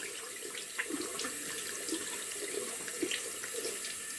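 Tap water running steadily into a sink while waiting for it to turn hot, a continuous close splashing stream with no talk.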